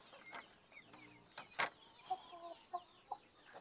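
Breeding chickens clucking nearby in short separate calls and squawks, with one louder burst among quieter clucks over a soft background.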